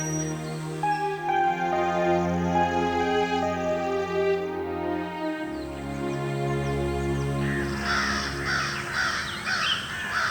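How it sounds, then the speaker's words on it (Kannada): Animated cartoon crows caw loudly, with several harsh calls that overlap and layer into a dense group cawing, set over background music. "ಮನೆ ಹೊರಗಡೆ ಇದ್ದ ಆ ಮರದ ನೆರಳಲ್ಲಿ ಯಾವಾಗ್ಲೂ ಬಂದು ಕೂತ್ಕೋತಿದ್ದ ಆ ಕಾಗೆಗಳ ಗುಂಪು"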